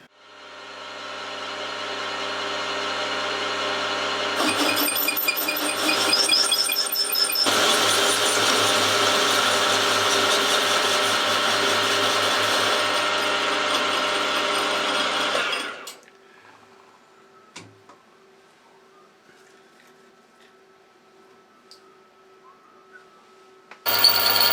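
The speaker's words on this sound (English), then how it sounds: "What I need to do now is machine this out with the boring head." A machine spindle fitted with a boring head cuts into metal, a loud steady mechanical whir and rattle lasting about fifteen seconds before spinning down into quiet with faint clicks and a sudden clunk at the end.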